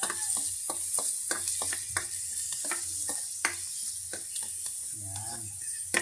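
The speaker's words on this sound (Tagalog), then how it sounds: "At ngayon ay hahalo-haloin natin yung bawang at saka sibuyas." Garlic and onion frying in a pan for menudo, a constant close sizzle with many quick scrapes and clinks of a spoon stirring against the metal, with no talking over it.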